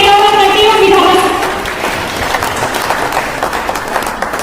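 Loud applause breaks out at a celebration event as the microphone is handed to a legislator, a dense burst of clapping that rises as a voice finishes speaking and then carries on strongly alone.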